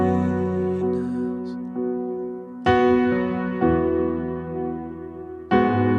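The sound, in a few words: worship keyboard played with long reverb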